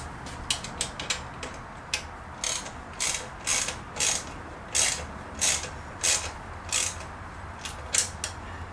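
A hand ratchet snugs down wheel bolts on a 21-inch Advanblack wheel, producing bursts of close, crisp clicking in an uneven rhythm of about a dozen short runs, with no talking.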